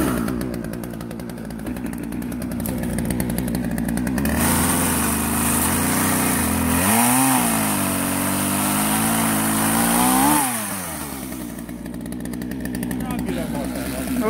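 A Partner 351 amateur chainsaw engine idles, then revs up into a loud, buzzing roar with a couple of bogging dips before dropping back to idle, close by.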